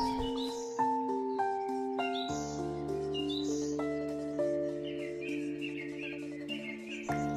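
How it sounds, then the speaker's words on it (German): Small birds chirp and sing in bursts of clear whistled notes beside a flooded loop of the Oste river, close and fairly faint against a quiet background, with no talk. "Vom nahen Aussichtspavillon lässt sich das Treiben der Vögel in der nahen Pütte beobachten."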